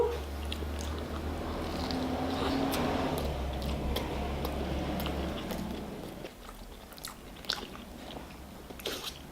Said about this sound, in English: The chicken adds a nice crunch to it.